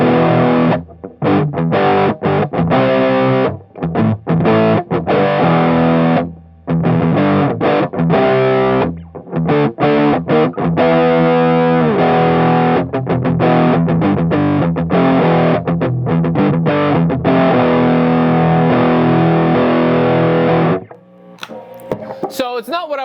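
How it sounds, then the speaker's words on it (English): Loud, gritty distorted electric guitar with single-coil pickups, Aria Pro II XR, through an SD1 overdrive, playing choppy chords and riffs with short stops between phrases, close and upfront, ending in a brief noisy tail. "hear what this single coil sounds like with a little bit of gain"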